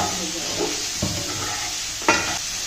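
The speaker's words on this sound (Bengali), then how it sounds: "কাঁচা লঙ্কা টমেটো তো সব কিছু একসঙ্গে দিয়ে ভাজা হচ্ছে" Green chillies and tomatoes fry together in a wok with a steady sizzle, broken by two sharp scrapes of a stirring spoon, the second one louder, with no talking.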